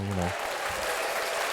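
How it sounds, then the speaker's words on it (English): Brief burst of applause from a small group clapping, steady and close, with a voice speaking at the start. "Y'all clap it up for the, you know,"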